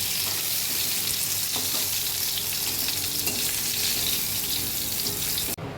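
Pointed gourd pieces fry in hot oil with a dense, loud, continuous sizzle and occasional faint stirring clicks, ending with a sudden drop near the close.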